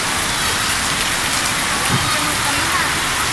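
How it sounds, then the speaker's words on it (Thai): Steady rain falls and patters on surfaces, a dense, continuous hiss that is loud and close throughout with no voices. "ฝนก็ตก น้ำก็ท่วม"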